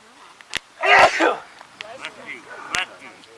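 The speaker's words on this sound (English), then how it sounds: "I'm gonna sneeze." A single sharp sneeze bursts out close to the listener amid soft breathing and faint sounds.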